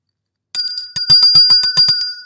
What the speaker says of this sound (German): Ja, ich habe hier so eine tolle Glocke.